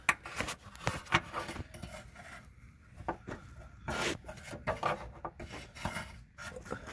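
Hose pliers grabbing a hose clamp while swapping a Lincoln Town Car's air suspension for coil springs: steady close metallic scraping, rubbing and rasping, with irregular grinding bursts as the jaws work against the clamp.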